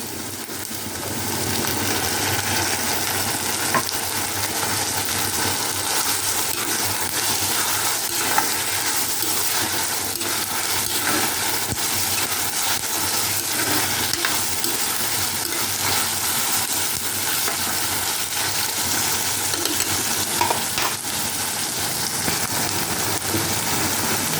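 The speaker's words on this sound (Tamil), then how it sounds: "இஞ்சி பூண்டு விழுதை ஆட் பண்ணிக்கலாம்." Green chili and ginger-garlic paste fry in hot oil for a mushroom dish, giving a steady, even sizzle and crackle from start to finish, with no talking.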